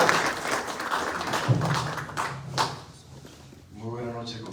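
Audience applause at a book presentation ceremony, a short round of clapping that thins out as a voice begins speaking over it.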